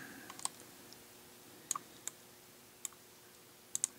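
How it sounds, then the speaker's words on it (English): A computer mouse clicks in sparse, quiet, irregular single and double taps over a low hum in a quiet room. "So I'm clicking on this piece right here."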